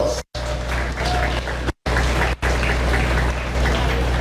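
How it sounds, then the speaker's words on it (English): An audience at a World Environment Day event giving a round of applause, a steady wash of many hands clapping with a few short dropouts. "I ask you to give yourself a round of applause."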